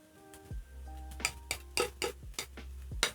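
Sliced bacon tipped into a pan of crisping potatoes, with a series of clinks and scraping knocks of utensil on pan in an uneven rhythm, close and fairly quiet.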